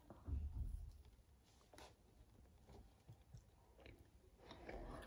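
Someone bites into and chews a marzipan heart up close: soft, irregular crunchy chewing and mouth sounds with small clicks, quiet and steady over several seconds, with no speech.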